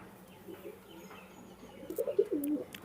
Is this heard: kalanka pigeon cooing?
yes